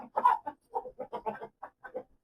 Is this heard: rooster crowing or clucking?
yes